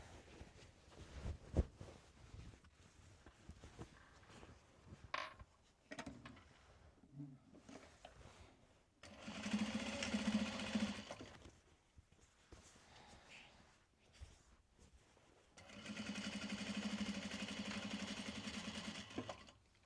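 A sewing machine top stitches a tote bag in two sustained mechanical runs of steady, rapid stitching, separated by quieter handling noises and brief clunks in between.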